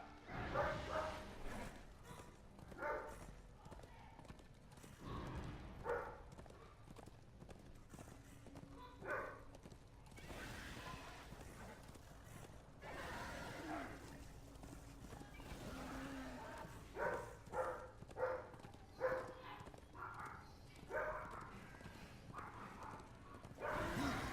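Dogs bark in the Darksiders II video game, scattered yelps and barks mixed with hoof-like clatter and game effects, moderately loud with little talking.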